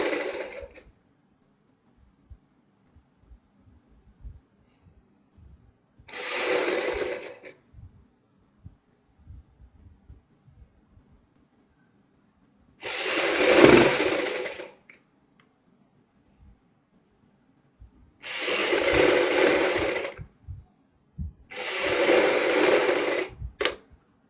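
Sewing machine stitching a border on an old embroidered suit: four loud, steady whirring runs of one to three seconds, separated by silent pauses, close up and without talk.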